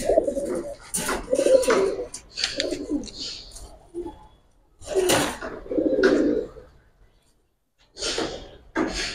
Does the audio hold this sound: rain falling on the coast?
no